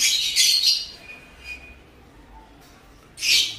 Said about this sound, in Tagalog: Napakagandang ibon.